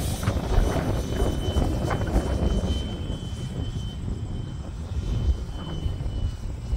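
A Freewing MiG-15 RC jet with a 64mm electric ducted fan flies in strong wind, its whining fan rising and fading as it passes overhead, mixed with heavy gusty wind buffeting the microphone, no talking.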